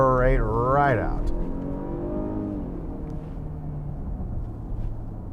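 A 2020 Mercedes-Benz GLE 350 4MATIC engine pulls hard out of a corner, a rising rev sweep at the start settling into a steady drone, heard from inside the car.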